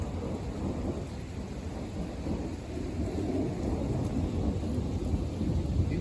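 Rainstorm with a constant wash of falling rain and low thunder rumbling from far off, steady and fairly loud, without any voices.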